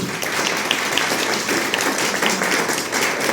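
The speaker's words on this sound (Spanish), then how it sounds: "Fuertes aplausos, por favor, para nuestra video" Theatre audience applauding the evening's presenters at a social-issues theatre event, a dense, steady wash of many hands clapping throughout, close and fairly loud.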